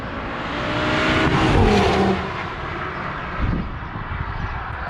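Audi RS3 with a 400 hp engine heard from outside, a steady broadband engine and exhaust roar that swells to a peak and then eases, like a car driving past at moderate distance.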